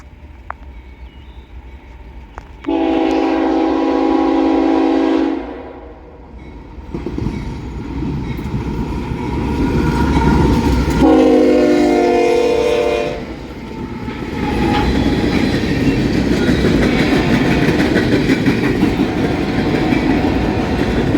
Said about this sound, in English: another 30T coming south on that Saturday